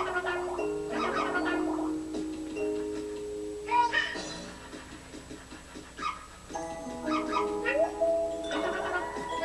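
A whimpering puppy in Yoshi's Crafted World gives off high, wavering whines and small cries over steady game music, coming and going through the stretch.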